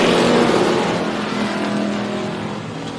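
Pro Stock race cars roar loudly at the start of a main event at Tucson Speedway, a close, dense engine rumble that slowly fades as the pack pulls away.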